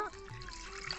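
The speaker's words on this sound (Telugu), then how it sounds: "ముక్కలు మునిగేదాకా నీళ్లు పొద్దాం" Water trickles and pours steadily into a pot holding pieces of Konam fish, a continuous close liquid flow that fills most of the second with a faint voice briefly underneath.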